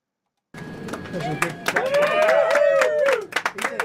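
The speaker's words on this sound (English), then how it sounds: "what they're applauding is the pilot making a pilot announcement" Airline passengers burst into clapping and cheering in a plane cabin after a pilot's announcement, a dense ragged burst of hands and voices that swells and then breaks into scattered claps.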